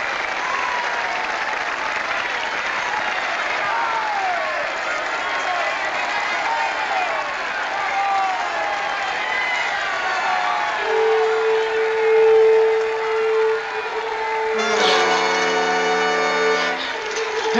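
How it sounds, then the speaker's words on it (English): A large crowd applauds and cheers for a woman's singing and dancing in a 1948 musical film, steady dense clapping with scattered shouts, loud and continuous, with a sustained musical tone entering near the end. "They're cheering for you, Manuela, for your singing and dancing."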